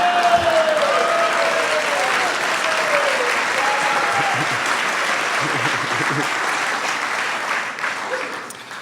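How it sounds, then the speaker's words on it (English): Sustained audience applause at a Wall Street industry keynote event, a dense, steady wash of clapping from a large crowd lasting several seconds before gradually tapering off, with some background voices mixed in. "So if we can all give Suni another round of applause"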